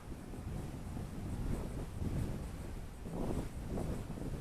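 Steady wind buffets an outdoor microphone as a small Eachine Mini P47 Razorback RC plane is flown, a continuous low rumble with gusts swelling around the midpoint and again near the end.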